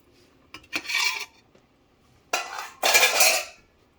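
Beef neck bones and tripe stirred in a pot, making two bursts of scraping and clanking, each a few scrapes of a utensil against the pot, close and moderately loud with quiet gaps between.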